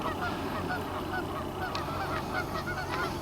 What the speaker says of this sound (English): Here's the one goose I was talking about